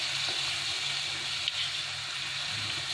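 Green chillies and curry leaves fry in a hot pan, a steady hiss and sizzle that holds even and close throughout.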